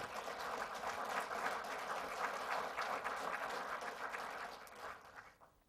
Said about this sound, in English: That deserves applause.